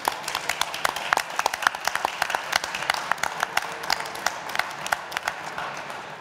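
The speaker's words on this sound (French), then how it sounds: "Je vous demande de les applaudir." An indoor audience gives steady, moderately loud applause for prize winners at an awards announcement, with dense clapping that does not let up.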